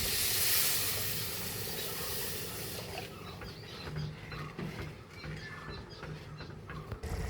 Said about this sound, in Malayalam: നമ്മുടെ ഗ്രേവി തിളച്ചിട്ടുണ്ട്.